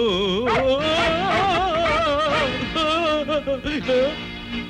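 A dog whines and yelps in a high, wavering, drawn-out cry in a 1992 Bollywood devotional film scene, loud and continuous with a few short breaks near the end.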